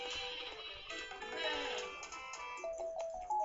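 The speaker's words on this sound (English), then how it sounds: "Using sleepy sheep." Sleepy Sheep item from the Paper Mario video game, a cartoonish sheep bleating with wavering, tonal game sound effects layered over light background music, steady and close with no talk.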